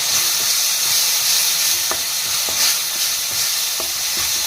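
Masala is stirred in a frying pan over a constant loud sizzle, with a spoon scraping the pan in repeated light strokes roughly every half second.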